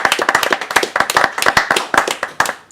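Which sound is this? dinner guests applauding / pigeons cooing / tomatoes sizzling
dinner guests applauding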